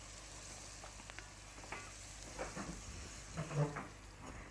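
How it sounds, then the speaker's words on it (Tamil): Chili, onion and curry leaves sautéing in oil over an outdoor cooking fire, a soft continuous sizzle with a few faint stirring scrapes rising and falling. "மிளகாய், வெங்காயம், கருவேப்பிலாம் போட்டு இதை கொஞ்சம் வதக்க விட்டுட்டு"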